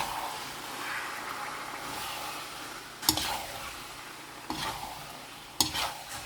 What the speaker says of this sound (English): we're going to mix this